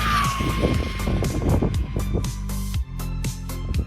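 An HBX 16890A brushless RC car with an XTEAM 2850 6,550kv motor screams past at full throttle, its high whine dropping in pitch as it passes close by, with a steady loud roar throughout.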